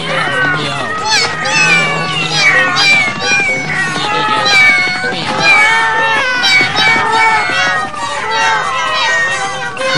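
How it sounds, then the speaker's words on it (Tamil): Many cartoon cats meowing together in an animated Ninja Hattori scene, a dense overlapping chorus of cries running throughout, loud and close, with voices mixed in. "என்னப்பா அது, இத்தனை பூனைங்களா?"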